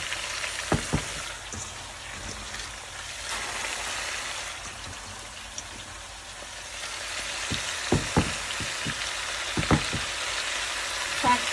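Malabar spinach (pui shak) frying in a pan after a spice tempering, with a steady soft sizzle and scattered sharp scrapes and clicks of stirring, moderately close and with no one talking.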